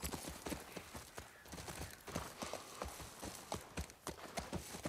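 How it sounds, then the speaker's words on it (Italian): Horse hooves clip-clop steadily in the video game The Last of Us, a continuous rapid trotting rhythm that stays fairly close and even throughout. "Il cavallo è ubriaco"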